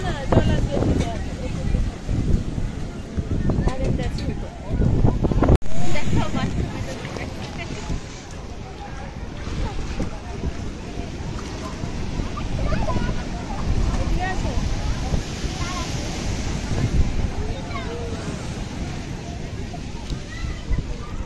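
Wind and surf roar continuously at Digha beach on the sea, loud and close with heavy wind buffeting the microphone, while people talk over the din.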